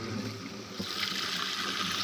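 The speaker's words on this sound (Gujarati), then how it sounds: "તમે જોઈ શકો છો પાણી નીકળવાનું" Water still running out of a farm pump outlet just after the motor is switched off, a steady splashing gush close by, with no talk.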